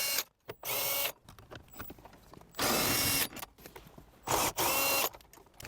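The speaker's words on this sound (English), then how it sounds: "you could either use a wrench or a power tool, and then we're going to go ahead and turn it counterclockwise to remove them" A power tool or ratchet spinning out 10mm bolts counterclockwise while removing a power amplifier from a 2023 Toyota Crown, in several sharp whirring bursts separated by quiet handling noises, close and fairly loud.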